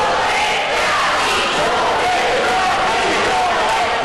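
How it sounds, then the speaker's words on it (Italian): Stadium-style supporters cheering and chanting inside a city council chamber, a loud, continuous mass of crowd voices filling the room from start to finish. "Tifo da sovrastadio in consiglio comunale"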